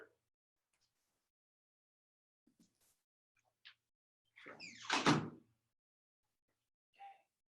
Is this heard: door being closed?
yes